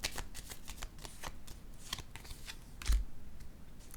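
Playing cards handled on a table during a card reading, with a quick flurry of soft, papery flicks and shuffling taps followed by a slightly firmer placement thud, close and quiet.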